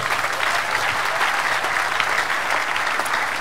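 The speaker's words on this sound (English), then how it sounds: "Give the Lord the biggest clap of him." Steady, dense applause from a large church congregation at a stadium foundation-laying ceremony, loud and continuous throughout with no pauses.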